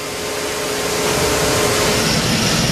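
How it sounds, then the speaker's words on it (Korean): Inside a coffee-bean roasting factory, a roasting machine heated past 200 degrees runs hard, giving a loud, constant broadband roar with a faint steady hum underneath, close and unbroken throughout. "200도가 넘게 달궈진 로스팅 기계가 가열차게 돌아가는데요"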